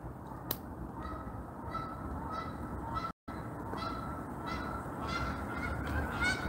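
Canada geese honk repeatedly in an open, windy outdoor space as a coyote goes after them, a scattered chorus of calls over steady wind noise, with a brief dropout midway.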